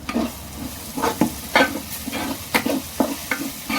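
Ginger and garlic sizzle in a hot pan while a utensil scrapes and stirs in quick, irregular strokes, close up with no talking.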